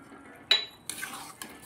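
Spoon scraping and clinking against a pot while potatoes and taro are stirred, three sharp metallic knocks spaced apart over a quiet background.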